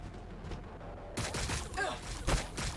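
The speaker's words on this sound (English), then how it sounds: "We're taking fire!" Gunfire in the Battlesector video game, a quiet stretch broken by a sudden fusillade of rapid, overlapping shots and blasts that continues to the end.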